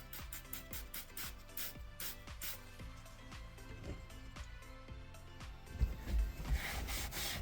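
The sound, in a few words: scrubbing salt spreader truck part with brush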